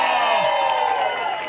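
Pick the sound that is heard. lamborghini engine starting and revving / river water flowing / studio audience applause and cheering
studio audience applause and cheering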